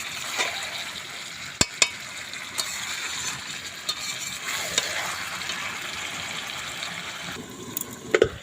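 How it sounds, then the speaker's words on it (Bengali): Large fried potato pieces are tipped into chicken in a pan and stirred, producing a lively close sizzle broken by sharp scraping and clanking hits of the spatula. "এবারে আমি মাংসের মধ্যে ভেজে রাখা আলুগুলো দিয়ে দেব"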